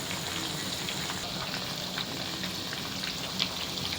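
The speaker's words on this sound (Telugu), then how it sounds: "ఈ మసాలాను మనం ఇప్పుడు ఈ ఫ్రై అవుతున్న చికెన్లో మనం యాడ్ చేద్దాం" Chicken fries steadily in a pan with biryani masala being added, a dense, even crackling sizzle with no talk over it.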